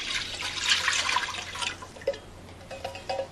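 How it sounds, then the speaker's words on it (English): Canned ingredients pour from a can into a large stock pot, a splashing, gurgling rush that runs for about two seconds before trailing off into a few small drips and plops, fairly close and with no talking. "So then you just want to pour that right into this pot."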